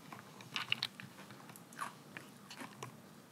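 Someone eating crunchy fried food, with sharp bites and crunches close to the mic. The crunches come in short, uneven bursts over quiet room tone, and no one speaks.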